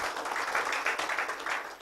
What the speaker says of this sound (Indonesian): Tepuk tangan dulu untuk Anda ya.